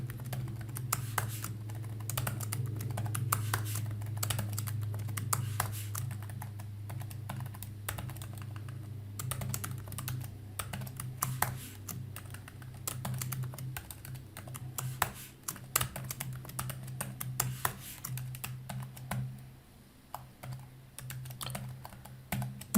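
Rapid keyboard shortcuts tapped on a computer keyboard during a spreadsheet speed drill, dense clusters of crisp key clicks in bursts and pauses over a steady low hum.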